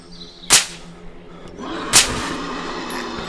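Two sharp pistol shots ring out in the zombie survival game Survive the Nights, about a second and a half apart, loud and close over a low background hum, with no talking.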